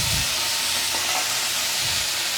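Jackfruit seeds, potato and eggplant sizzle steadily in hot oil, a dense, close crackling hiss with a few louder spits, loud and continuous with no talk.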